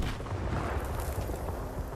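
An explosion in the video game Stalker 2 gives a loud, sustained rumbling blast with crackling debris, filling the whole stretch with dense low boom and no speech over it.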